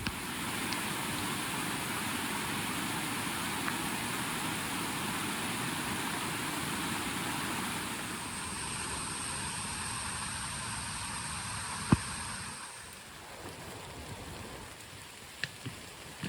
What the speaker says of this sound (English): It is still pouring super hard.